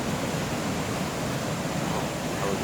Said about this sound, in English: The waterfall right there.